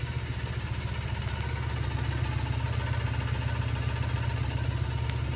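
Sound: Triumph Bonneville carbureted motorcycle engine idling

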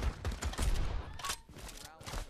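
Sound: AK-47 gunfire in the video game Pavlov VR

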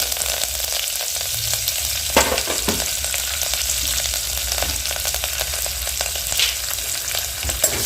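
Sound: cashews frying in oil until golden

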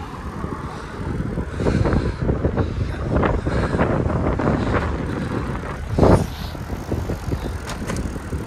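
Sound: wind blowing on a gravel bike ride

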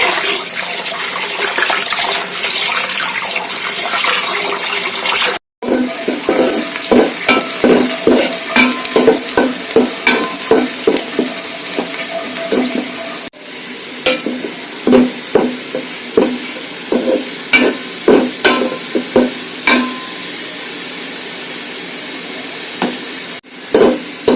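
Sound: polao rice being added to a pot and stirred

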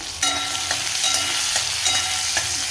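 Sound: onion, tomato and garlic frying in oil

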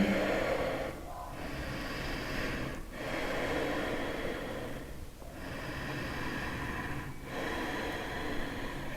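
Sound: deep even breathing during yoga

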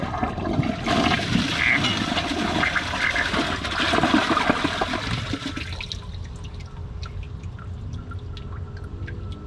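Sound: second toilet flush

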